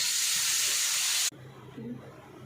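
Water poured into a hot pan of fried potatoes for a bata or pabda fish curry bursts into a loud, bright sizzling hiss that cuts off abruptly, then quieter bubbling and kitchen sounds follow.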